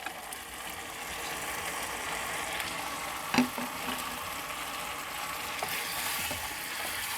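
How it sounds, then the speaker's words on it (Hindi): Fried mixed vegetables are stirred in a pan, a soft steady sizzle with faint repeated scraping strokes and one sharper clack partway through, fairly quiet and without talk. "अच्छी तरह मिक्स करेंगे।"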